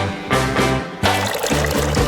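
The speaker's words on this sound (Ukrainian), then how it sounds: "вилью туди залишок гострого соусу та розбавлю його водою" Leftover hot sauce and water are poured into a larger bottle, making close, gurgling glugs that come in uneven bursts and pauses.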